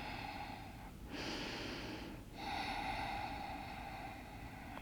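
Yoga breathing: slow, audible breaths, a long exhale followed by a deep inhale, close and fairly soft, with no talk.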